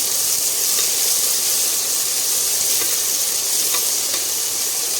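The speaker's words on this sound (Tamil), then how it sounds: "வெங்காயம் நல்லா வதங்கி வரட்டும்." Shallots and onions sizzle in hot oil as they are stirred for a village-style country chicken curry. A close, steady, bright frying hiss runs continuously, with faint crackles and no speech.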